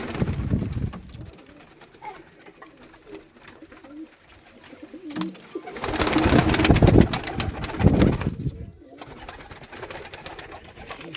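Pigeons kept by a fancier in Kashipur murmur and coo at night in repeated rolling phrases, near and fairly loud, swelling in the middle with some rustling among the birds.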